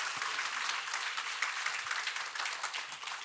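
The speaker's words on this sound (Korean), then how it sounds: "또 나오실 때 우리 큰 박수로 환영하도록 하겠습니다" A church congregation applauding a speaker as he comes forward for a sermon: dense, even clapping from many hands, moderately distant, steady for a few seconds.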